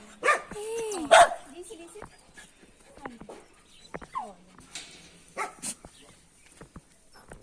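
Dogs at an animal shelter bark and whimper in a sequence of loud, close yelps and whines, with sharp bursts near the start and scattered barks later, while a person talks over them.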